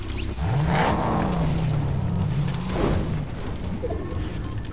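A car engine drones steadily in the Fortnite video game, its hum wavering in pitch as the vehicle drives, with a couple of louder bursts layered over the continuous motor noise.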